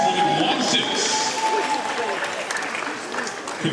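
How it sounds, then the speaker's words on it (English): An indoor athletics meet crowd claps steadily for a new personal best, sustained applause filling the hall while an announcer's voice carries over it. "a round of applause for a new personal best for Hana Oteng"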